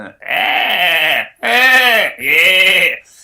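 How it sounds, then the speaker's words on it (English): A sheep gives three loud, close bleats, each lasting about a second, with short gaps between them. "sheep"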